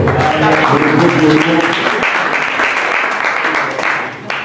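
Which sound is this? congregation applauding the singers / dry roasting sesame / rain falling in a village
congregation applauding the singers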